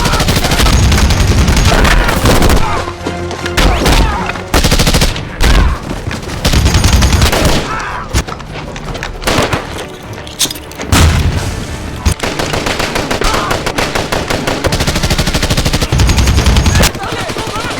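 Action film battle scene with loud bursts of automatic gunfire and heavy booming shots, dense and rapid with short gaps, mixed with a dramatic score and some shouting voices.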